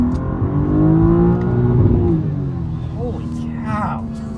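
A BMW G87 M2 accelerates hard, its exhaust rising in a loud, close roar that then fades, with a voice talking over it.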